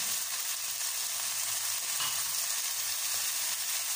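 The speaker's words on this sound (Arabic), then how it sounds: "باش ما يتحرقش ليا البصله." Onion frying in a pan with a couple of spoonfuls of water added, giving a steady, close, continuous sizzle with no voices.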